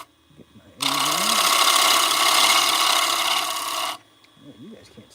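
A diesel engine at a sawmill starts up abruptly and runs loud and steady for about three seconds, then cuts off, with brief speech before and after.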